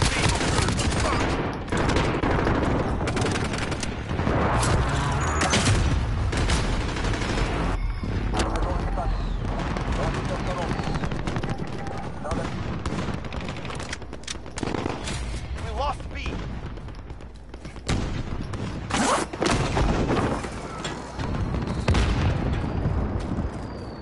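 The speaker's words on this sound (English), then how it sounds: "Allied precision airstrike incoming" Allied precision airstrike in Call of Duty, with dense bursts of gunfire and heavy booming blasts rolling on and off in loud waves, while voices talk over the chaos.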